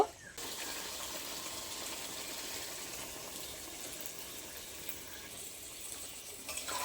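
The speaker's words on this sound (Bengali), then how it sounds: "এবার আমি গ্রেভির জন্য জল দেব।" Water is poured into a pan to make gravy for a Bengali vegetarian paneer dum curry, a steady gushing stream running for several seconds at low volume, close to the microphone and with no talking.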